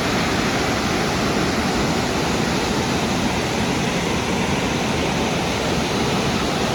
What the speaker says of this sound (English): So we'll show you some footage of the gorgeous waterfalls there.